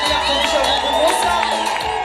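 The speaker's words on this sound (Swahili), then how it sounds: "Makofi na vigelegele kwa ajili ya mtumishi wa Mungu Musa. Shangilia." A congregation cheers and ululates for a servant of God named Musa, with loud, wavering high trills and shouts in a brief, dense burst.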